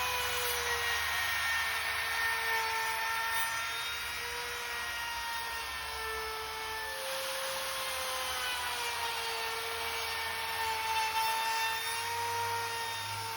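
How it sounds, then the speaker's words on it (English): An old Porter-Cable laminate trimmer routes a 1/4 inch round-over along a plywood edge, a steady high-pitched motor whine with slight pitch shifts as it cuts, continuous and fairly near with no talking. "I'm going to cut a 1/4 inch radius round over just with my old Porter cable laminate trimmer"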